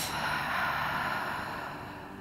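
A long, soft exhaled breath during a hatha yoga routine, close and airy, fading gradually.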